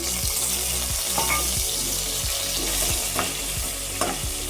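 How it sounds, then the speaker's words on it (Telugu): Spices crackle and sputter in hot oil in a pan, a steady close sizzle with sharp pops and stirring scrapes throughout. "ఫ్రై అవ్వాలి కాస్త చూడండి కాస్త చిట్పట్లని"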